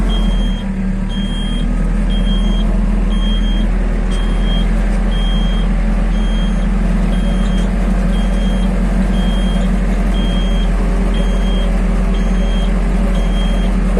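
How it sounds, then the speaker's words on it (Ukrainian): An Iseki Japanese mini tractor's engine drones steadily as its 1.7 m rotary tiller works soil, a loud continuous low rumble, with a faint periodic beep recurring throughout. "Фреза фрезерує гарно, мені подобається."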